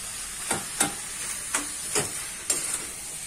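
Chicken pieces frying in a hot pan, a steady soft sizzle and hiss with a few sharper crackles and stirring clinks spaced across a few seconds, close and moderately quiet with no talking.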